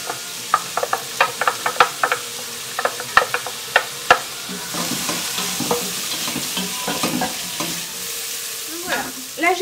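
Chopped onion, carrots and celery fry in butter in a pot, a steady sizzle broken by repeated sharp spoon knocks and stirring scrapes, close and fairly loud, with no talking.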